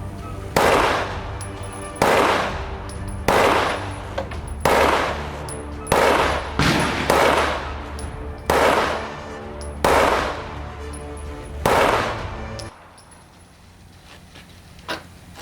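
Taurus GX2 pistol fired in a steady string of about ten sharp, loud shots at roughly one-second intervals, each ringing briefly before the next, ending in quiet.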